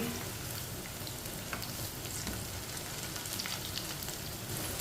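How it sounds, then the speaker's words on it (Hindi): Okra (bhindi) fries in a pan with a dense, steady crackling sizzle, close and continuous, with scattered sharper pops and no speech. "देखें भिंडी हमारी फ्राई हो चुकी है।"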